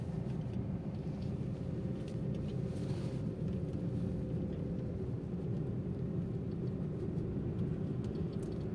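A car's engine and road noise rumble as a steady low drone from inside the vehicle during a driving lesson, unbroken and constant throughout, with no voices heard.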